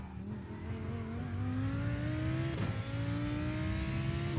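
A GT3 race car engine in the iRacing sim at Spa climbs steadily in pitch under hard acceleration, with a brief shift blip midway, then keeps rising with a loud, continuous whine.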